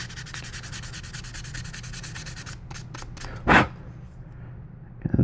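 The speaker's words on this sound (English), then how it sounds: "Let me see if I can sand it out. The 400 grit." Steady rhythmic rubbing of fine 400-grit sandpaper on a 1/8-scale model motorcycle, close and continuous, then a pause with a few brief scuffs and a sharper swipe near the end.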